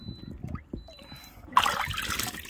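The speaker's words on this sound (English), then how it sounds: "Unscrew it, get the water out, just shake out." Water trickles and splashes from a dirty Lay-Z-Spa hot tub filter as it is unscrewed and shaken out, a short burst of close splattering following quieter handling noises.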